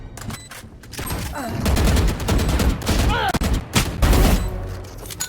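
Rapid sprays of automatic gunfire in a shooter video game, loud bursts crackling in quick succession with brief gaps, mixed with other game effects and some player chatter.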